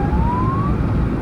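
An ambulance siren on a highway sounds as one loud continuous tone, rising slowly, heard close and dominating the short clip.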